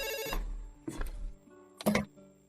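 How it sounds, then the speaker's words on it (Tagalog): A telephone rings in three separate bursts of buzzy, electronic ringing spaced about a second apart, close and fairly loud against a quiet room background, with no talk between rings. "Nagri-ring na ang telepono nyo."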